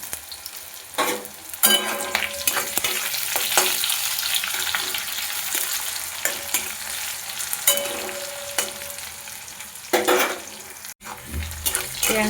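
Chopped onions with a little salt sizzling in a pan for chole bhature, a continuous close crackle broken by occasional scraping stirs and clatters over about twelve seconds.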